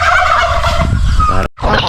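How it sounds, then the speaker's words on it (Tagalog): Turkeys gobble loudly and close by, a rapid warbling chorus that breaks off with a brief gap before resuming. "dito naman yung mga pabo nagantay na"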